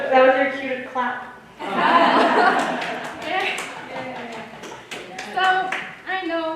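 A brief burst of audience clapping mixed with chuckles, sandwiched between stretches of a person speaking, lasting a couple of seconds before the talk resumes.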